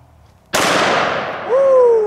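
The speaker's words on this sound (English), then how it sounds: "500 Smith & Wesson Magnum with a 500 grain hard cast." A .500 Smith & Wesson Magnum revolver fires a 500-grain hard cast load: one sharp, very loud, close shot with a long ringing decay, then a rising whistle-like tone near the end.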